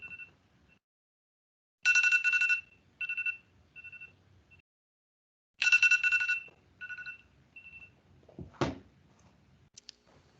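A phone alarm clock rings in electronic bursts, two long warbling chirps each followed by shorter beeps, separated by silence, with a brief rustle or handling noise near the end.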